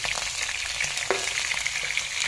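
Tuna pieces frying in a hot pan for garlic-chili fish sauce tuna, a steady dense sizzle and crackle with one sharp pop near the middle, close and continuous with no talking.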